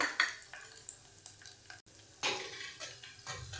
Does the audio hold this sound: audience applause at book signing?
no